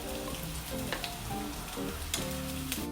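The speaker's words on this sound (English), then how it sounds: "Place the potatoes in the pan to fry until they are golden brown." Potatoes frying in a pan until golden brown, a steady close sizzle and crackle with occasional sharper pops, continuous and fairly quiet.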